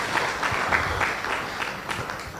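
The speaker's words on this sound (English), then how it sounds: "Please give him a resounding round of applause" Audience at a business workshop giving a round of applause, a brief burst of moderately loud clapping from a room of people.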